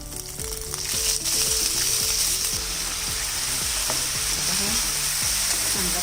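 Peanuts and potato pieces fry in a pan for a potato upama, giving a steady hiss with loud close sizzling and repeated stirring scrapes and clicks, no talk over it.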